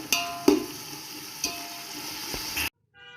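Onions with salt sauté for Andhra chicken biryani, a steady close sizzle punctuated by a few spoon scrapes and taps against the pan before it suddenly stops.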